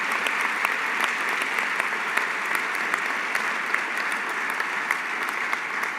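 A crowd at an event with Senator Lindsey Graham applauds military family members, dense and sustained clapping that stays steady throughout with no talk over it.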